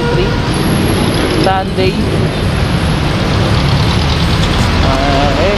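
Road traffic on Aurora Boulevard in Marikina on a Sunday, a steady loud vehicle roar with a brief horn or brake squeal, as someone talks over it.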